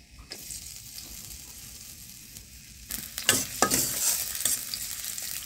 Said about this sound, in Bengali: এটা আমি একটু কষিয়ে নেব